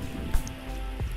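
Rain falls steadily outside a Kyoto gyoza restaurant, a dense, continuous hiss with scattered drops and a faint low hum underneath.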